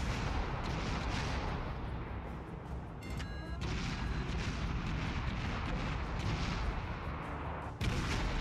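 Naval gunfire in the World of Warships video game, dense rumbling booms under a constant low roar with one sharper blast near the end, fairly faint overall.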